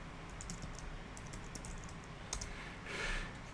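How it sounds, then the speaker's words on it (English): Keys tapped on a computer keyboard in quick, faint, irregular clicks over a low steady room hum, with no voices. "I want to type in passivation specification."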